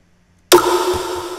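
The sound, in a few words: Jack Q snare drum sample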